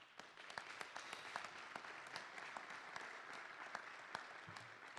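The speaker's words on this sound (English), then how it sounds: "So let's give them a round of applause." An audience at a city council meeting applauds, a soft, steady crowd of clapping hands with a few sharper individual claps standing out, heard from some distance.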